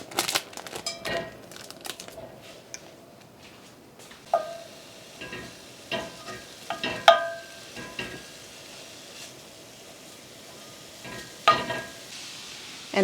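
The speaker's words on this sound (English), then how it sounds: "I'm just going to cook the sausage in my skillet here." Sausage browns in a skillet with a steady low sizzle as a utensil scrapes and taps while crumbling it, producing irregular clicks over the frying hiss.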